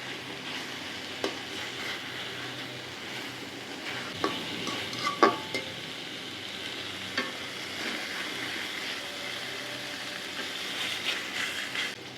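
Hilsa fish pieces frying in mustard masala in a pan, a soft, even, steady sizzle heard close, with occasional light taps and scrapes from turning the pieces.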